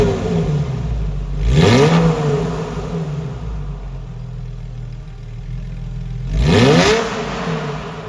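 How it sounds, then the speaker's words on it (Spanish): A Porsche 911 with a custom-built exhaust idles close by and then revs hard twice, a few seconds apart. Each blip climbs sharply and falls back to a steady, throaty idle. "¿Qué os parece el sonido que hemos conseguido sacar con el escape que le hemos hecho?"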